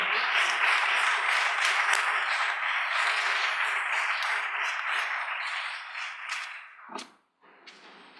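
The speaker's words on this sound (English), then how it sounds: "let's give another round of applause for Mr. Proctor." At an evening awards ceremony, the audience claps in a sustained, dense round that holds steady, then thins into scattered claps before stopping near the end.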